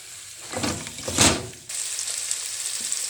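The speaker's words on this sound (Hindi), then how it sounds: "इसको आप अच्छी तरह थॉरोली हिला के अच्छी तरह इसको हिला दें" Boiled potato pieces being stirred and sautéed in oil in a pan for a khageena dish, giving a steady close sizzle with bursts of scraping and stirring noise that swell and fade, then an even frying hiss.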